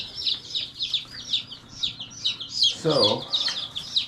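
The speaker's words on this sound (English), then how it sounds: "These guys are just starting to crow." Young chickens just starting to crow give a run of rapid high peeping calls, close and continuous, while a brief spoken word cuts in partway through.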